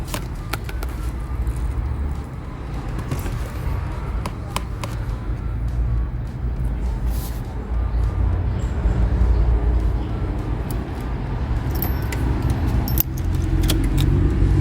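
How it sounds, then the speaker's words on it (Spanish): Car keys jangle and an ignition key turns in a car with a 1.6 HDi diesel engine that will not rev past 3,000 rpm, with light metallic jingling over a steady low rumble that swells slightly toward the end. "Vamos a ciclar la llave"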